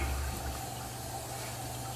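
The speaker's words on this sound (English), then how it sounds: "This one drains, but the other one doesn't." Water draining down a blocked sewer drain, a steady rushing, gurgling flow with a low rumble, continuous and fairly close.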